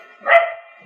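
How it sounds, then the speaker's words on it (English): A single short, sharp dog bark rings out nearby, loud and clear against a quiet background. "Excuse the dogs."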